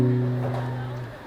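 A single palm-muted guitar dyad, the second chord shape from a song, rings low and damped near the microphone, then fades out within about a second.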